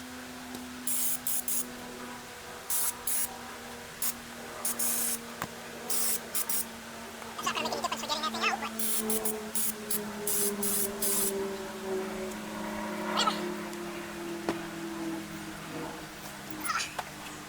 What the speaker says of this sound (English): we're going to hit some carb cleaner around there